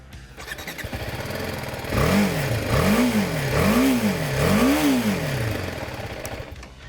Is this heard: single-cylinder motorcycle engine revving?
yes